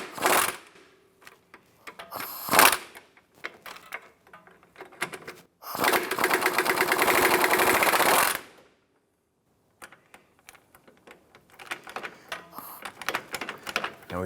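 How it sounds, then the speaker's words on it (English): Bolts on the passenger-side front transmission mount of a 2004–2008 Acura TL are loosened with a ratcheting tool, giving scattered metallic clicks, one sustained buzzing run of a few seconds, then more intermittent ticking up close. "I'm going to go ahead and loosen the bolts here on the passenger side."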